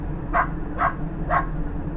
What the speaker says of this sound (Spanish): Era un ladrido desesperado, urgente, como si tratara de advertirme de algo.